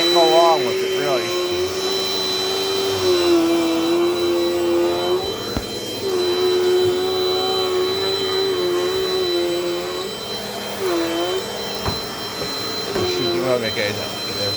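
A Dirt Devil Dynamite Plus vacuum cleaner runs close by with a steady, loud whine and a thin high tone, while a voice talks over it throughout.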